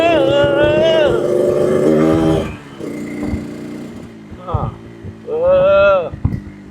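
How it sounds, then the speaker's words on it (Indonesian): A Yamaha RX King motorcycle revs its two-stroke engine, its exhaust rising and falling through loud, close revs, dipping to a rough idle and then climbing again near the end. "begitu ditarik suaranya tuh, suara knalpotnya tuh gak begitu kenceng"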